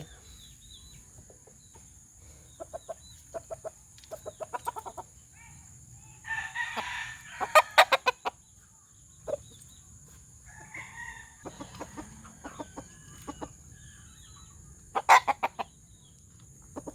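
Native Tagalog roosters crow several times at a distance amid scattered clucking and short squawks from chickens, with a steady faint hum in the background.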